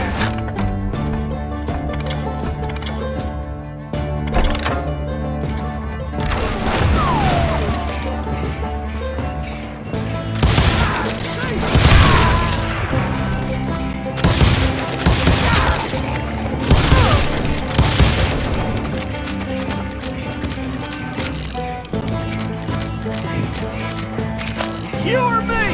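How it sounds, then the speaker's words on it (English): Hired guns fire in the Wild West shooter Call of Juarez Gunslinger, with loud bursts of gunfire and booming impacts over a steady game soundtrack, building to heavier volleys midway. "Sounds like Garrett hired a whole regiment of hired guns."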